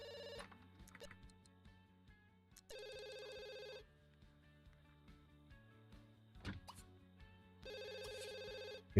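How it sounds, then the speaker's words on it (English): A dorm phone rings in the video game The Sims 2 with repeated electronic bursts set apart by pauses. Soft game sounds and thunks play underneath. "Because the dorm phone is ringing."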